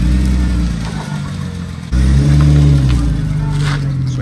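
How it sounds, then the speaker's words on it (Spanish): A car fitted with loud aftermarket mufflers revs nearby, a steady rumbling drone that jumps to a louder, deeper roar partway through. "Suena bien los pinches mofles esos culeros que trae."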